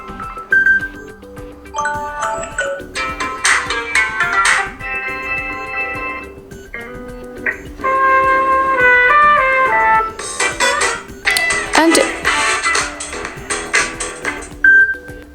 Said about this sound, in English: if you want to listen how the particular ringtone sounds, then simply tap on it.